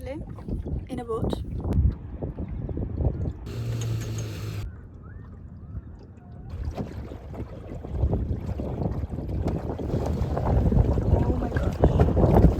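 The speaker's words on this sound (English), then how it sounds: "I am currently in a boat." Steady rushing water and wind noise from a boat moving along, with a brief hissy burst partway through and voices speaking briefly at the start.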